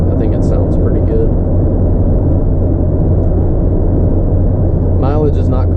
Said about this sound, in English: I like a little bit of noise coming out of the back of my car. It's just enough to know that, you know, it's got a nice exhaust on it.